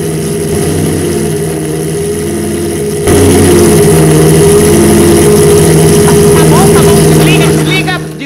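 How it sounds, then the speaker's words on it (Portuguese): A motor fitted into a bed starts up and revs, a loud steady engine drone that jumps in level partway through and stays strong, with voices talking over it near the end. "Aí a gente implantou um motor aqui na sua cama, ó."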